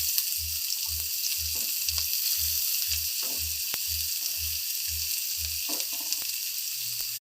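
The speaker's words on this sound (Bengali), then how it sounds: "তেলটা গরম হয়ে গিয়েছে, এবার এর মধ্যে দিচ্ছি 2টো মিডিয়াম সাইজের কুচনো পেঁয়াজ।" Two medium chopped onions frying in hot oil, a strong, steady sizzle throughout with a regular low thumping pulse and occasional stirring scrapes, stopping abruptly at the end.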